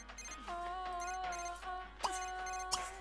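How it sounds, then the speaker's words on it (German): A mobile phone rings in The Sims 3, playing a bright electronic melody of repeated tones, steady and fairly clear with small clicks between phrases. "Ah, muss jetzt das Handy klingeln."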